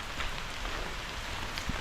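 Steady heavy rain patters densely on leaves and ground in a forest at Thoovanam Waterfalls, Munnar, a continuous close hiss with no voices.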